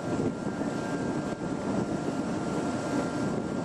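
An American Navy helicopter lands on a Russian warship, heard from aboard the supply ship USS Niagara Falls as a steady, loud engine and rotor roar that fills the whole stretch without pause or talk.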